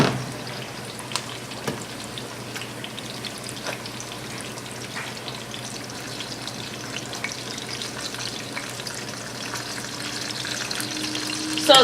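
Pork tenderloins fry in a hot pan, giving a steady, close sizzle with scattered crackles and pops throughout and no talking.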